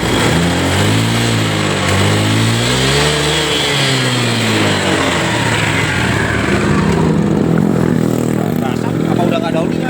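A Honda Vario 150 scooter engine, burning oil, revs up loudly close by, pitch rising and falling, then settling into a steady rough idle.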